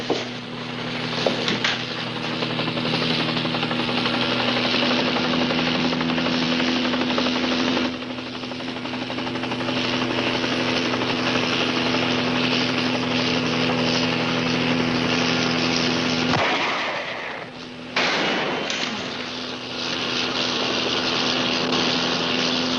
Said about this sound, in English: I could have got that chopper if I had a chance